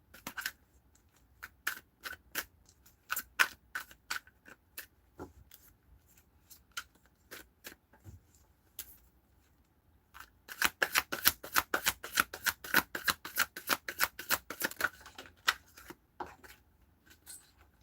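Cards being shuffled up close: scattered crisp flicks at first, then a fast riffling burst of rapid card snaps.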